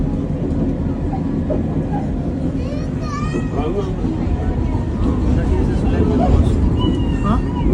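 A train in Turkey rumbles loudly and continuously nearby as passengers get off, with metallic squeals and voices of people in the background.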